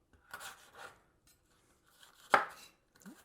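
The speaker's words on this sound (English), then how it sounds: "Roughly chopped" Vegetables being roughly chopped on a cutting board for beef soup, several soft knife strokes early on, then a sharper, louder chop near the end, close and quiet with no talking.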